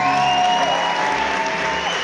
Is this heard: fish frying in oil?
no